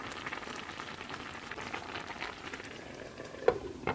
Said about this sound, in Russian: пока у нас рыбка такая тушится, жарится, тушится, как хотите, так и называйте